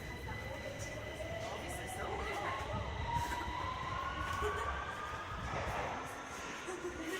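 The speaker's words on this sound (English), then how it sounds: "That was a train literally passing and leaving under my feet." A low, steady rumble of a London Underground train running beneath Euston station, heard from above, with a faint rising whine sweeping across as it passes and pulls away, under noisy ambience.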